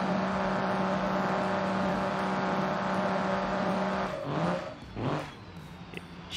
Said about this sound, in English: This truck can do a rolling burnout like crazy.